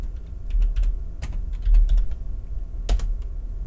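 Keys on a computer keyboard are tapped in short, uneven bursts as commands are entered, with a few sharper strokes standing out against a low background hum, and no voices.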